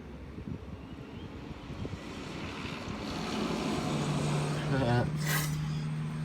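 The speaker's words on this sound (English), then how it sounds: "here comes a bus" A bus passes by on the road, its engine rumble swelling from faint to a louder, steadier drone over several seconds with a low hum settling in as it nears; a person talks over it.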